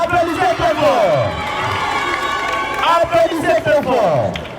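Crowd of schoolchildren at a school election campaign event cheering and shouting, with an excited voice calling out over the noise and some clapping mixed in, lively and close.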